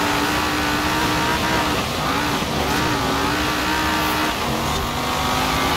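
A 2016 Dodge Viper ACR roars through a snowy race in Forza Horizon 4, its engine droning loudly and continuously with steady high revving and no pauses.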